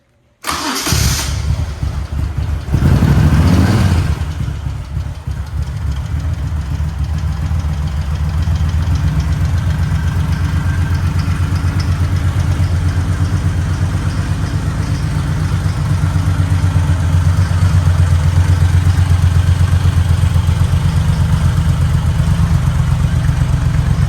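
A 1998 Moto Guzzi California motorcycle cranks over and fires up, then settles into a steady, loud, close idle with a low throbbing pulse that holds for about twenty seconds.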